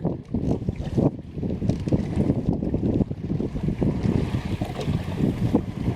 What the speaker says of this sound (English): That's a mean, mean gust right there